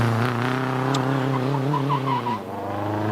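A supercharged vintage MG J2 climbs Prescott hill with a loud, buzzing engine note that wavers and climbs in pitch, then drops sharply as the driver lifts off near the end.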